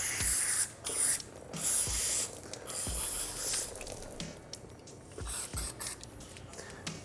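Aerosol lubricant sprays in bursts into a bicycle shifter, the hiss repeatedly stopping while the shifter clicks and ratchets through the gears between sprays, close and fairly quiet.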